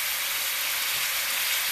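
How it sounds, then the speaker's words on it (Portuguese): Pork ribs with a layer of fat fry in a pan, giving a steady, close, broadband sizzle with no talking. "Eu também não estou colocando muita gordura para fritar, porque a costelinha tem muita gordura também."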